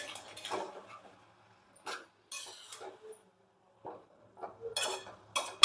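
A spoon scrapes and clinks against a pan while grated carrot for gajar halwa is stirred and sautéed, in short bursts separated by quiet pauses, close and moderately loud.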